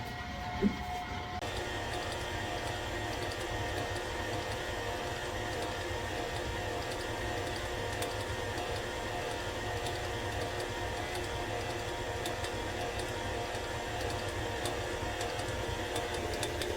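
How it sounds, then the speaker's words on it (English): A stand mixer with a dough whisk attachment runs steadily, mixing cinnamon roll dough. The motor gives a continuous loud whir and rattle that starts after a short moment and holds without a break. "I have a dough whisk attachment here. Put that on. And then I'm going to mix this up."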